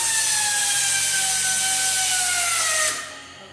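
A ZONESUN pneumatic friction-welding strapping machine runs its tensioner on PET strap, a loud steady whirring drone with a slowly falling whine that holds for about three seconds, then drops off sharply, close up and with no voices.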